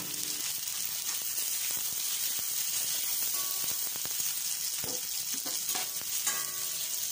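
Crushed ginger, garlic and chopped onion sizzle steadily in hot oil in a pan for a chickpea curry, with a spoon scraping and stirring at intervals close up.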